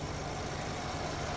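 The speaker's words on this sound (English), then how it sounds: "You can hear it idling very happily right now." A turbocharged four-cylinder engine in a B9 Audi A4 Allroad idles steadily nearby with a smooth, even hum and no other sounds.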